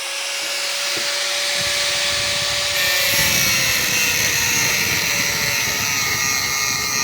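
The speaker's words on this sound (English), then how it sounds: "the quicker way of doing it is using a grinder" A power grinder whines loudly and continuously at close range, its high-pitched spinning tone steady throughout, with grinding noise as it cuts through the metal pins of a spade's handle socket.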